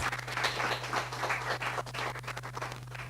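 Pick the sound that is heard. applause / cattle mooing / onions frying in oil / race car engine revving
applause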